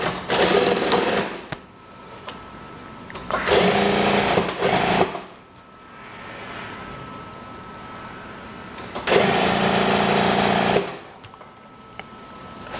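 Sewing machine stitching the edge of a kimono-style daster dress, running in three loud sustained bursts separated by pauses with quieter handling noise between.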